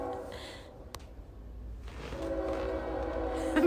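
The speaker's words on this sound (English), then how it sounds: "hear the train as it goes by" A train passes by outdoors, a steady low rumble that builds and thickens over a few seconds, with sustained horn-like tones joining midway and a brief sharp click early on, moderately distant, with no speech.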